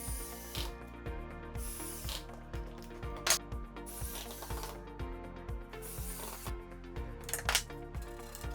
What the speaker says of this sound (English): now I'm going to screw it on